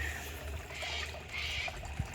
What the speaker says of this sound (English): Not a bad little splash.